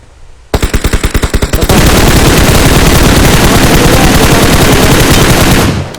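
Video game gunfire: a burst of distinct rapid automatic shots is followed by a dense, continuous, loud stream of machine-gun fire that runs nearly to the end before cutting off.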